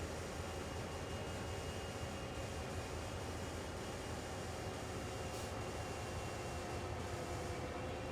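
CSX GP40-2 diesel locomotives in Train Sim World hold a low, steady engine drone with a continuous rumble and faint tonal hum, unchanging and fairly quiet for the whole stretch, with no talk.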